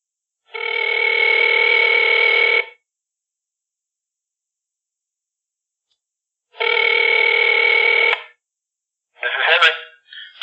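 An outgoing telephone call rings over the line in two long, even ring tones separated by several seconds of silence, followed by a brief burst of sound as the line picks up.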